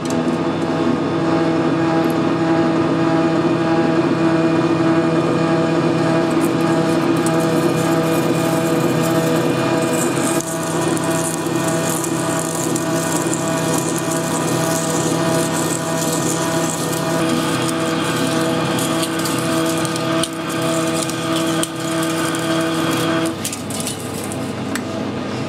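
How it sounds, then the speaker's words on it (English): A lathe drills a large hole in aluminium with a steady, loud mechanical whine and strong tonal hum. Grinding cutting noise goes on continuously for the whole stretch. "Nice big drilling here."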